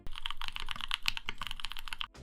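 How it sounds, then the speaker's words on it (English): Crisp, gentle keystrokes typed in a quick, steady, close-up rhythm on a limited-edition J-02 mechanical keyboard with a carbon fiber plate and gasket mount, alone with no voices. "the carbon fiber plus gasket combination leads to very crisp and gentle typing sounds."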